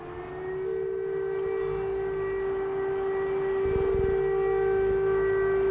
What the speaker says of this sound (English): Air raid sirens are part of everyday life.